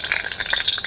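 Dry red chillies and fennel seeds spit and crackle in hot oil in a wok-like pan, a close, bright sizzle with quick popping bursts and no voices.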